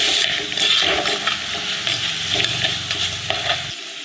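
Fish sizzles steadily in a pan while a utensil scrapes and stirs through it, close up and without speech.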